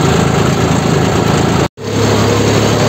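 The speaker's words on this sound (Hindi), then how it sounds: "भाई खेत में लगा दिया ट्रैक्टर" A Mahindra 5310 tractor pulling a cultivator through a farm field runs with a steady, loud engine drone and rhythmic chugging that cuts out for a split second near the middle, then resumes at the same pace, with no voices.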